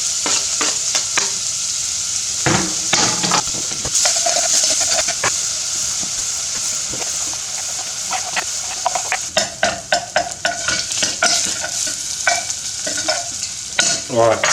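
Uncooked rice and chopped onion brown in a pan, a continuous close sizzle broken by frequent stirring scrapes and clatters, heaviest toward the end, with no talking.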